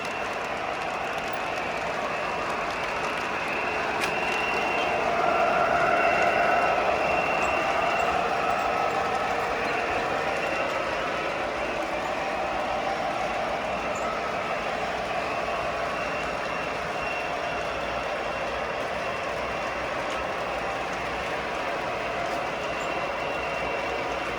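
A model train locomotive engine sound rumbles continuously with a steady, droning tone that swells slightly early on, then holds an even level throughout.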